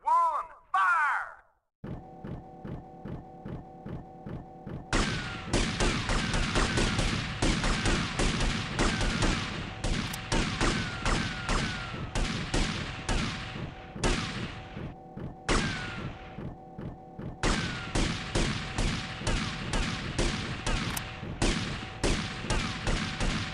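Firing squad volley in GTA Vice City, a burst of loud shots followed by a long run of rapid, repeated gunfire bursts with brief pauses, close and dominant over a droning background.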